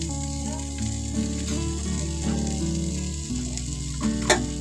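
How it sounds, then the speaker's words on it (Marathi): A leftover chapati, folded and crisping in ghee in a pan, gives a continuous low sizzle with faint stirring and a sharp click near the end, close and even with no talking. "छान असं दोन्ही साईडने मस्त असं फोल्ड करून छान क्रिस्पी होईपर्यंत छान असं आपण चपातीला हे करून घेत आहे ते आपण परत थोडस तूप टाकणार आहे"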